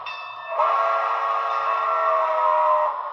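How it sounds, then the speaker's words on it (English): Whistle of an HO scale New Haven I-5 model steam locomotive, one steady chord-like sustained blast lasting nearly three seconds, clear and close with no other sound around it. "I really like the tone of the whistle on this."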